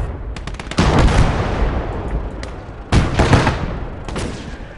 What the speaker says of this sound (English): And we've got an artillery piece.